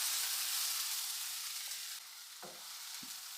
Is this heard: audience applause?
no